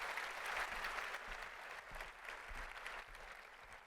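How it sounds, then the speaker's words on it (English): Steady applause from an audience, a dense wash of clapping that carries on throughout at a moderate, even level. "Let's all give them a round of applause while they go back to their seats."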